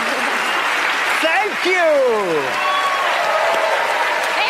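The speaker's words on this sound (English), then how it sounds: "Big applause for her" An audience breaks into steady applause after a magic trick in which a spectator's ring is revealed, the clapping sustained and fairly close while someone talks over it.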